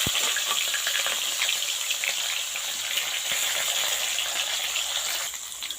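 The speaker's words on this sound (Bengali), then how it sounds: "দুইটা মাছের মাথা খুব সুন্দর করে কিন্তু লাল করে ভাজা লাগবে" Two fish heads frying in oil in an iron wok, a loud continuous close sizzle and crackle with occasional stirring clinks, steady throughout and easing slightly at the end.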